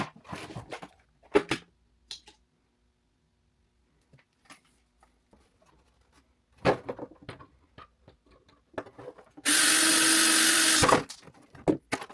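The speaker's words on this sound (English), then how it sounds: "some of them are riveted in there, so I had to drill those out" A power drill whirs in one steady burst of a second or so, drilling out rivets on a 1970s-built item, preceded by scattered knocks and tool clatter in a quiet room.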